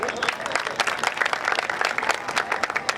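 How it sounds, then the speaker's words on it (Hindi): An audience at a Hindi comic poetry gathering claps in a dense, steady patter of many hands, fairly close and sustained throughout, with a little background voice mixed in. "आप लोगों को अच्छा लगा है अभी तक तो मुझे तालियां बजाकर बता दीजिए।"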